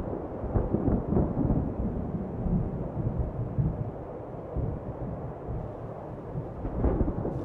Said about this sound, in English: This is the storm I spend long days every year forecasting and tracking.